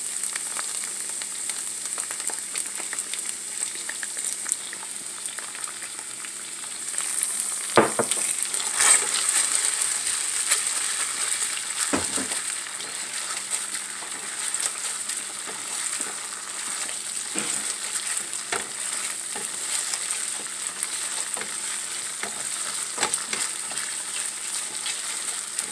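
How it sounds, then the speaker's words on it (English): Onions and peppers frying in a pan, a soft steady sizzle throughout with occasional clinks and stirring scrapes, fairly quiet and close. "I'm just going to cook my onions and my peppers."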